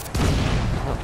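Ship cannons firing in Assassin's Creed IV Black Flag, a deep booming volley that erupts after a brief lull and rolls on loudly for the rest of the moment.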